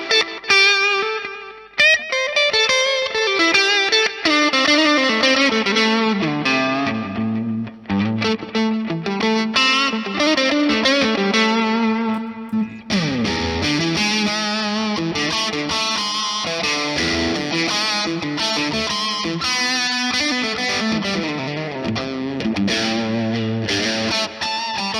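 Electric guitar played through a Nux Tape Core Deluxe tape-style delay pedal, with distorted, chorus-tinged notes and chords trailing into dense repeating echoes, loud and continuous throughout with no talk.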